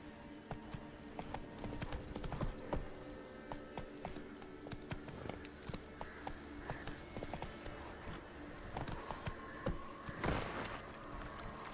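Hooves gallop in The Witcher 3 video game as the horse Roach runs, a continuous fast clip-clop rhythm against a busy game soundscape, with a faint voice at times.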